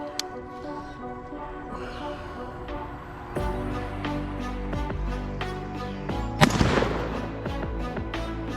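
Three rifle shots from a .50 Beowulf with a Bear Creek Arsenal side-charging upper, fired outdoors: sharp, loud reports, the last one at about six and a half seconds the strongest, over a steady background hum.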